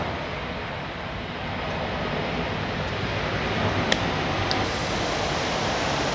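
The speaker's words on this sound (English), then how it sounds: "Another plane." An airplane passes overhead, its steady broadband roar holding at an even level throughout, with a couple of faint brief clicks and no talking.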